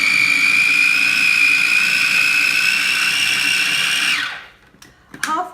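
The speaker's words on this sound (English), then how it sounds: "I'm literally going to put all of this into the food processor" A food processor whizzes butter beans and flat-leaf parsley into a dip with a loud, steady high-pitched motor whine, which spins down and stops after about four seconds, followed by a few light clicks and knocks.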